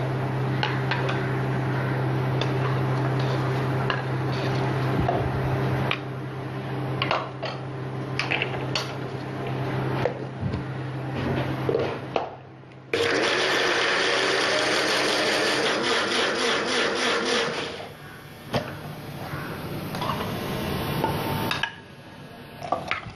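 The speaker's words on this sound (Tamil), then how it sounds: "அதை இப்போ வந்து இந்த மிக்சியில் வந்து இதை போட்டு அரைச்சிடலாம்" Mixer grinder whirring steadily as it grinds spinach (palak), a continuous motor hum with a brief pause partway through, then resuming loud and close.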